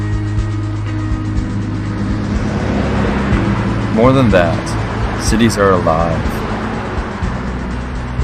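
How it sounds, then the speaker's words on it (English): Busy city street with cars passing and buses driving by, a steady traffic roar with engine surges, heard under a speaking voice. "with lots of movements from pedestrians, cars zooming past, and buses driving by."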